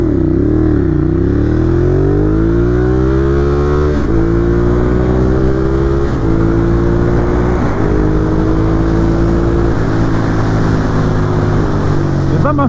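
A Ducati Monster 821 motorcycle in A2 restricted form accelerates hard through several gears, its loud engine climbing in pitch and dropping briefly at each shift, recorded close from the rider's position.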